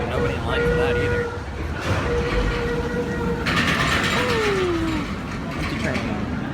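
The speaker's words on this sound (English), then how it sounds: "A mine train." Mine train roller coaster at Six Flags Great Adventure rumbling past with rail clatter and a rising wheel screech, heard at moderate distance amid busy park ambience, with talk in the background.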